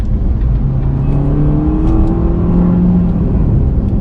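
A Maruti Ignis petrol AMT engine revs up, its rising, whirring tone climbing and sustaining close and loud, with no talking over it.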